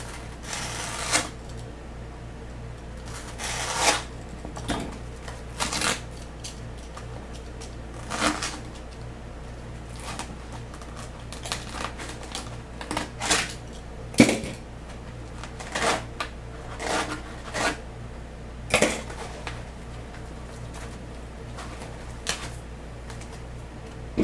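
Foam for a pool-noodle RC trainer plane being cut along a ruler, heard as a series of short, sharp scraping and cutting strokes separated by quiet gaps, close by, with no talking.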